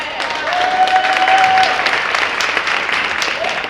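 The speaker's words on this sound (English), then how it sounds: "Let's give a round of applause for them putting on this solid event tonight." An audience at a Faces of Cancer Coalition evening program gives a sustained round of applause, steady crowd clapping that holds evenly throughout, with a voice briefly heard over it.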